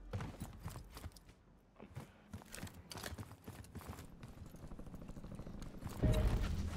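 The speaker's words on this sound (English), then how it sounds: "I heard his footsteps" Enemy footsteps in the shooter Call of Duty, a run of quiet, evenly spaced thuds nearby with faint background game ambience and a heavier thump near the end.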